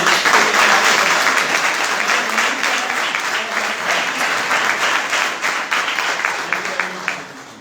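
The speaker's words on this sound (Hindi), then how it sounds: "तो इसके लिए जोरदार तालियां बजाएं" Enthusiastic applause for Bishop Andrew Francis at a book launch fills the room, a dense crowd of clapping hands that starts loud and slowly thins out over several seconds.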